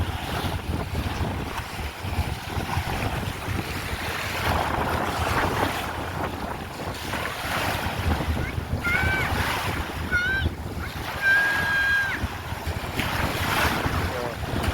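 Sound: waves at the beach

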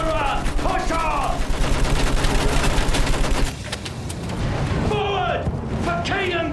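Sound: machine gun fire in video game Battlefield 1

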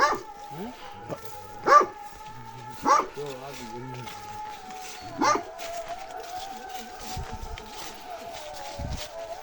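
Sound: dog barking

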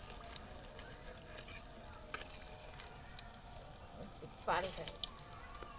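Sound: egg pakoras frying in oil

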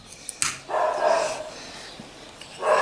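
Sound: small female dog barking at passers-by

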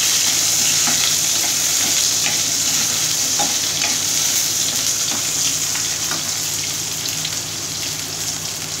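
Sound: onions frying and being stirred in a pan

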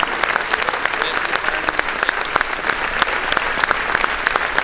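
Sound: loud applause

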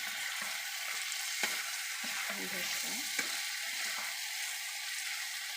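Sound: pigeon meat curry frying in oil

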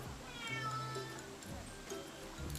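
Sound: cat meowing

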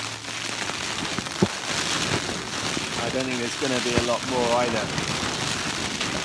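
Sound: rain on a tent on Dartmoor

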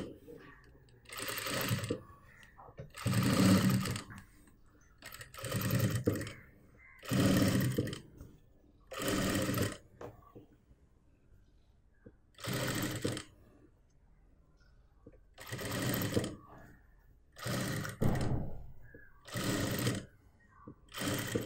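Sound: sewing machine stitching a churidar top

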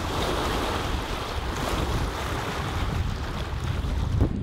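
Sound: strong wind and waves on a lake, canoeing

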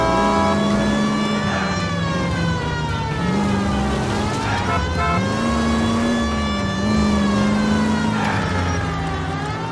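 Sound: car chase engine revving in L.A. Noire video game

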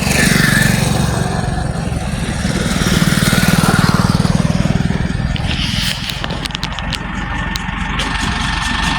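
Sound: tractor driving on a tar road

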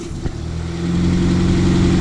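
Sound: car engine idling high, RB25 build

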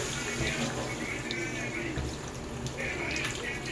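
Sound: water poured into vegetables for fish curry

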